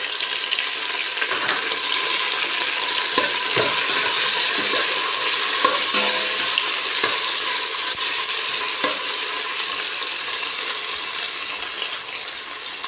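Tomatoes fry and get stirred in a pan for adobong talbos ng kalabasa, giving a loud continuous sizzle with occasional utensil scrapes against the pan. No talking.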